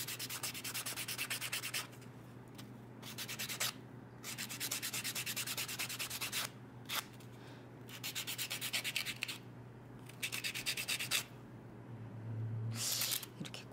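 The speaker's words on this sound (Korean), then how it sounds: "샌딩 소리만 나니까." Rhythmic rasping of a nail file sanding fingernails during a French manicure, close and steady, in repeated bursts separated by short pauses, with a low background hum.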